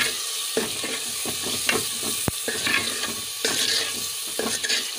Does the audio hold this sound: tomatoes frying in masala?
yes